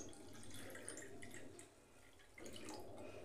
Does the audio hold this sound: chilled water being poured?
yes